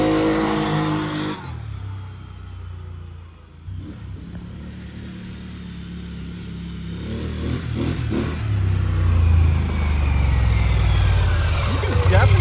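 A Polaris Sportsman ATV fitted with a newly installed axle revs loudly while being ridden, its engine droning and rising in pitch, heard up close alongside wind noise, with people talking.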